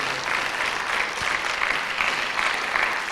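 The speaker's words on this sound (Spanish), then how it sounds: "Puedes darle un aplauso bien fuerte al Señor." A church congregation applauds loudly for the Lord, with steady, dense clapping from many hands filling the room without a break.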